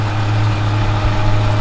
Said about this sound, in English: Gotta get some gaskets to fix that exhaust leak.